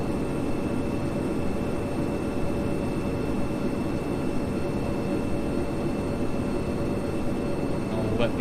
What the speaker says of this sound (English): I'll let the aircraft speed up.